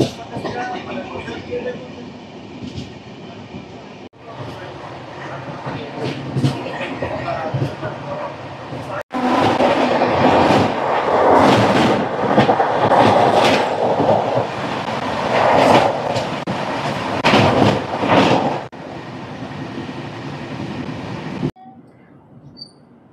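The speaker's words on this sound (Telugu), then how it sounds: "2 minutes హాల్ తర్వాత మా ట్రైన్ అయితే స్టార్ట్ అయిపోయింది" A moving Double Decker Uday Express passenger train, Visakhapatnam to Guntur, rumbles along steadily with a rhythmic clatter of wheels that grows louder midway, with talk at times.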